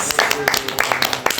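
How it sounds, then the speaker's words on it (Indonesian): Audience clapping for Safari Kurma, a brief burst of scattered hand claps blending with the voices of people talking. "Tepuk tangan dulu untuk Safari Kurma."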